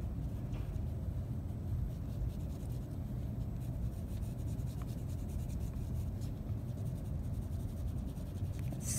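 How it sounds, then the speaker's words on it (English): A number 2 pencil shades an eye drawing on paper, a soft, steady scratchy rubbing that continues close and quiet throughout with no talk. "I'm gonna go back to my number 2 pencil so I don't get it too dark."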